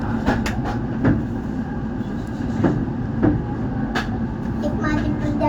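A Parahyangan executive train, a new-generation Jakarta–Bandung service, rolls steadily on the rails with a continuous low rumble and periodic wheel clicks. Faint background voices sit under the noise.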